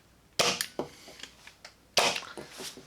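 A Bobo Innovations Gameboy Blaster toy dart blaster fires twice, each shot a sharp, close pop followed by rattling mechanical clicks and handling noise, with no talking.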